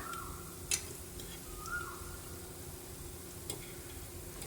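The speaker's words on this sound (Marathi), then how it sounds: "ह्यांना फ्राय करायचं आहे. गॅस स्लोच राहू द्यायचा" Bread pieces frying gently in ghee over a low flame give a soft, steady sizzle, with a few faint clicks and stirring touches scattered through it and no voices.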